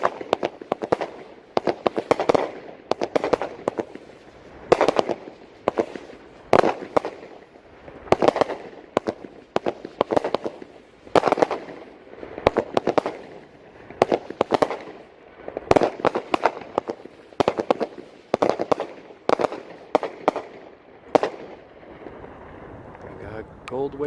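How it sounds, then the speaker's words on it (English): A big fireworks show with repeated loud booms and crackling bursts in irregular clusters, some close together, with wind noise and voices talking between explosions. "Sexy, big fireworks."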